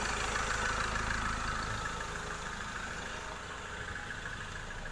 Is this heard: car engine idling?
yes